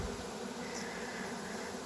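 A honey bee swarm at a hive makes a dense, steady buzzing drone that fills the short stretch at a moderate level, with no voices.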